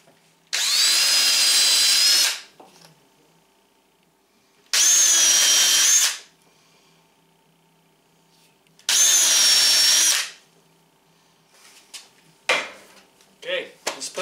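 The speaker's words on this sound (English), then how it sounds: "let's put some screws to it." A power drill drives screws into a teardrop trailer's side door in three loud, steady whirring runs of about a second and a half each, separated by quiet pauses, followed by faint handling clatter.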